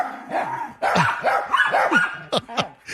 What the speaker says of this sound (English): I put the thing on the ground, and the dogs went nuts